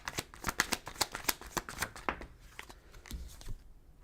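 Tarot cards are shuffled by hand during a reading, a close, quick riffling flutter of rapid papery snaps that slows and trails off into quiet.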